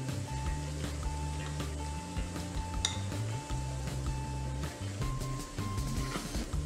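A spoon stirs batter gently in a bowl after a spoonful of Eno is added, soft scraping and occasional clinks under a steady background hum, no talk.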